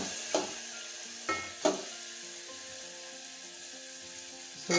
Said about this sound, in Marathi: मिरची आणि जो टोमॅटो आहे ना मित्रांनो, चांगल्या प्रकारे अशा प्रकारे आपल्याला परतून घ्यायचं व्यवस्थित